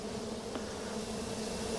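Honey bees hum in a steady, dense drone during a beehive inspection, close and continuous, with no talking.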